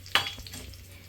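Curry leaves dropped into hot oil in a pan give one sharp burst of sizzle, which then fades into a quieter crackle and stirring.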